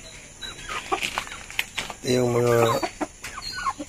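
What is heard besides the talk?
chickens clucking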